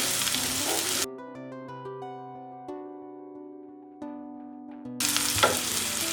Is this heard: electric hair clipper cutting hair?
no